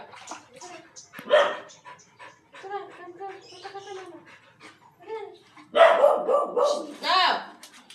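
A playful dog shakes and barks after a bath, with several close barks and pants in bursts mixed with people talking nearby, louder at the start and again near the end.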